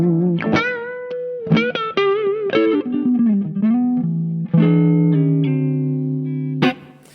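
Electric guitar played through a HangmanFX Tyrannosaur Mega Driver overdrive pedal: a series of distorted, sustained notes and short bends with reverb, loud and upfront, with no voices.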